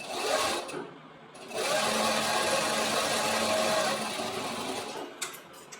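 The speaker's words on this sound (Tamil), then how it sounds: "இந்த ஓரத்தில் ஒரு ஸ்டிச்." A sewing machine runs in a long steady burst, stitching along a folded fabric edge, with a short start, a pause, then continuous close whirring that stops near the end.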